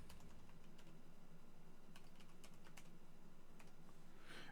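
Fingers type a username and password on a computer keyboard, tapping out a quiet, irregular run of close key clicks for a few seconds, with no talking.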